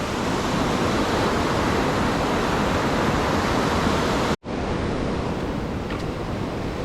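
Heavy rain runoff rushes down a channel into a swollen river near a falls, a loud, constant broadband roar of flowing water close to the microphone, briefly cut by a dropout midway before resuming.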